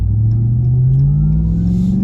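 A 2022 Ram TRX pickup truck accelerates hard on the road, its engine note a loud, close drone that climbs steadily in pitch without a break and with nobody talking.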